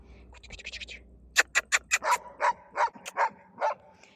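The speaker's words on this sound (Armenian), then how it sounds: "հերիքա հաչաս" A dog barks repeatedly in a quick series of sharp, loud barks, preceded by softer yips and whimpers, close to the listener with little else around.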